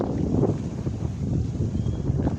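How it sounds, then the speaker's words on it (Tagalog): Steady wind buffets the microphone, a constant low roar with gusty swells throughout. "Medyo malakas-lakas yung hangin"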